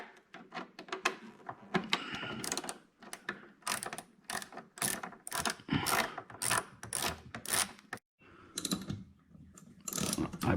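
A T25 Torx screw being backed out of a scooter cowling with a ratchet, rapid bursts of close, crisp clicking that start and stop repeatedly with brief pauses, alone without talk.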